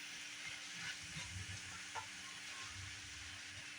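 Cabbage and smoked sausage cook down in a skillet with a soft, continuous sizzle and hiss, faint and steady, with a light stir sound.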